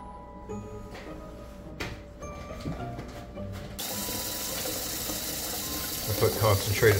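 Cold water gushes steadily from a tap to make salt water for soaking morel mushrooms, starting abruptly after a few seconds of faint clicks and handling noises and continuing as a loud, even rush.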